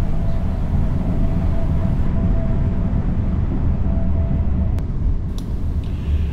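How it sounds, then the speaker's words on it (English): Passenger train pulling into Bedford Station alongside a freight train hauled by a Class 66, a loud, steady low rumble and rolling drone from onboard with a faint whine, easing slightly near the end. "We pull into Bedford Station alongside a freight train being pulled by a Class 66."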